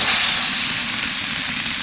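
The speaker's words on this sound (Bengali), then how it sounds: "তেলটা হয়ে গেছে, এখন মাছ দিয়ে" Chanda fish slid into hot oil for a Bengali mustard-flower curry, giving a loud, steady, close sizzle with a bright hiss that holds evenly throughout, with no voices.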